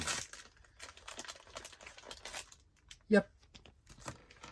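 A plastic bag from a Monster High doll set is opened up close, giving scattered crinkling rustles with a sharp tearing burst partway through.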